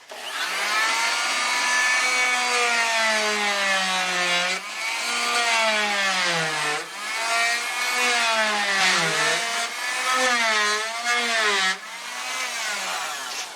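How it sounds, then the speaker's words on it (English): A trim saw cutting the full depth around a block, a loud sustained whining buzz whose pitch dips and recovers as the blade bites, with brief breaks between passes and no talking. "I'm cutting pretty well the full depth all around the block with the trim saw"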